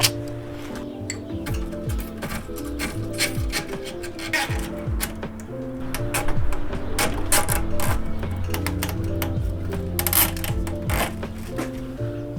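A plastic zip tie is ratcheted tight while a cooling fan is fitted to a Nissan 200SX S13, giving a long run of rapid, close clicking and rasping over a steady background hum, with no talking.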